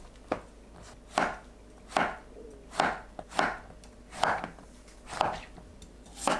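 A knife cuts zucchini into thick bite-size pieces on a cutting board, about eight crisp, evenly spaced chops heard close up with no voices.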